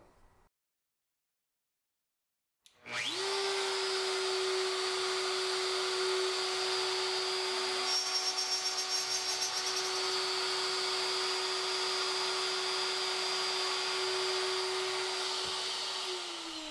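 A router fitted with a precision circle cutter starts up after a short silence and cuts a purfling channel in a guitar top, giving a steady, loud, close high-pitched whine that holds for over a dozen seconds and tapers slightly at the end.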